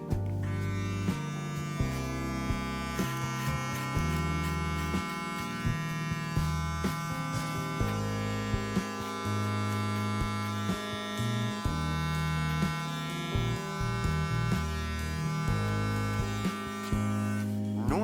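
A Panasonic beard trimmer set to 2 mm buzzes close up while trimming a full beard, holding a steady electric hum that shifts in pitch and loudness as it passes through the hair, with no talking.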